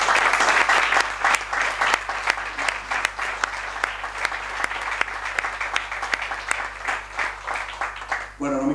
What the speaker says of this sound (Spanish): Por eso quiero que un aplauso otra vez a Juan y a su padre.